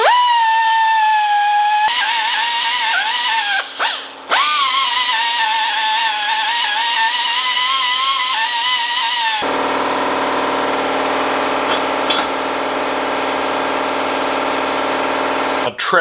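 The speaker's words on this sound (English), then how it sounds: "I'm going to take this finger sander." Pneumatic finger sander, used while building a 2x72 belt grinder, runs with a steady high-pitched whine and shifting tones, then switches to a broader, rougher grinding roar for the last several seconds, loud and close throughout.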